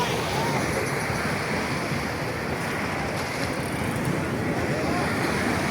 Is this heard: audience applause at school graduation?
no